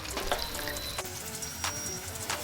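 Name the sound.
homemade garlic paste sautéing in pan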